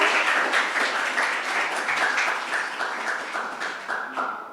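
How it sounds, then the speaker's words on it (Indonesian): Audience applause for a student about to present a scientific paper, dense clapping that fills the room and slowly tapers off. "Oke, berikan tepuk tangan untuk Dilan."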